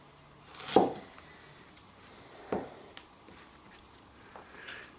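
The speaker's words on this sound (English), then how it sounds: "Then I peel and chop the ginger." A knife chopping peeled ginger on a cutting board, a few sparse, distinct knocks spaced irregularly, fairly close and quiet, with no talk.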